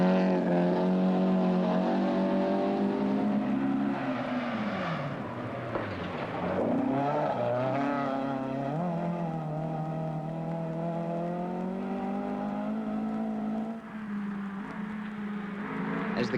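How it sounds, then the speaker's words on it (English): Rally cars from the 1978 Castrol International Rally of Canberra race through the night, their engines droning steadily with pitch sweeping down and back up as they rev and shift. "As the cars thunder through the night"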